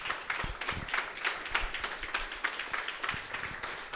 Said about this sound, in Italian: vorrei per favore un applauso per loro